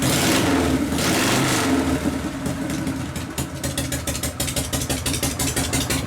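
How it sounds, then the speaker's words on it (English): A 1973 Harley-Davidson Super Glide FX with a 74 cubic inch shovelhead engine runs steadily and loudly, its rough rumble breaking into a fast, even run of pulses in the second half. "Good strong running motor."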